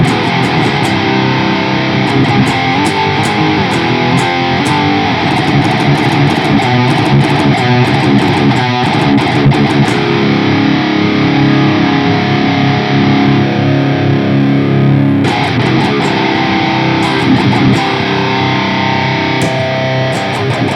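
Heavily distorted electric guitar through Radio Big Shot amp-modeling software with both tones blended, played loud and continuously for about twenty seconds with dense, sustained riffing and no talking.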